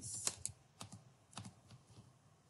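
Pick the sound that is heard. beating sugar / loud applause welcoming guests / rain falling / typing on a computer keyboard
typing on a computer keyboard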